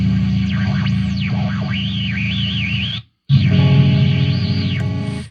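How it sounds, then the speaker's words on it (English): A Mountainking Dolmen effects pedal produces warbling, swooping shortwave-radio-like tones over a droning buzzy guitar, with sweeping whistles rising and falling, a brief cut to silence and then the drone returning, loud and alone. "It's like this like weird like shortwave radio noises"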